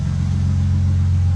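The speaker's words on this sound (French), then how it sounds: "Le bruit qu'on entend, c'est le démarreur au début là." A BMW E36 convertible's starter cranks at the start, then the engine runs with a steady low mechanical drone, close and loud, holding even throughout the short stretch, after sitting unused for 3-4 months through winter.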